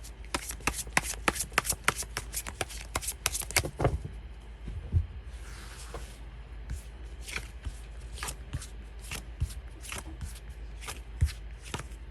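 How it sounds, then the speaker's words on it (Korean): Tarot cards being shuffled and drawn during a reading: a dense run of quick, crisp riffling snaps for about four seconds, then sparser single card slaps and slides, close and alone. "먼저 바로 카드 뽑아보도록 할게요"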